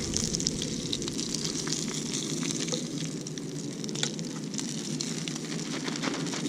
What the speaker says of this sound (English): when you're frying, always leave something in there so the grease don't get super hot